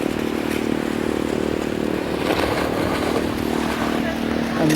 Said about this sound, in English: here comes our canal cleaner